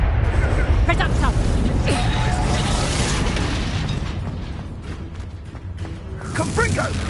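Spell explosions and magical bursts in the Hogwarts Legacy video game, a dense run of booms and whooshes under ongoing combat sounds and a voice calling out, loud and continuous throughout.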